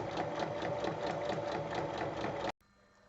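A sewing machine runs steadily, stitching a quilted fabric pouch along its full length in a continuous mechanical whir, then stops abruptly near the end.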